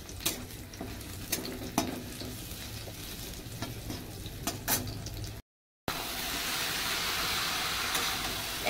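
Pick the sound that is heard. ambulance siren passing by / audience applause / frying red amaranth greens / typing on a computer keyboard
frying red amaranth greens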